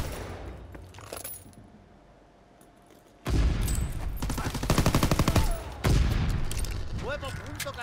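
Bursts of rapid gunfire ring out in a World War II shooter game, loud and sustained over several seconds with sharp cracks and booms, breaking in after a quieter stretch that carries a voice.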